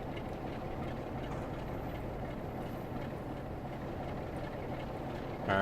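Steady rumble of a train running in a rail simulator game on the Preston to Crewe line, a continuous low engine drone with rail noise, constant and fairly loud throughout with no talking.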